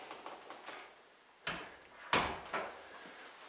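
Indoor doors in a house open and close, giving a couple of sharp thuds and sweeping bumps with quiet pauses between them.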